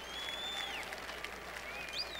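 Golf gallery at the 1986 Masters applauding, a steady patter of clapping and crowd noise heard from a distance, with whistle-like tones rising over it.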